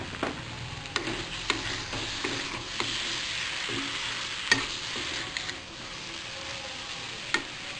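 Arbi (taro) sabzi with onion rings fries in a pan while being stirred, a soft steady sizzle punctuated by sharp spoon scrapes and clicks at irregular intervals.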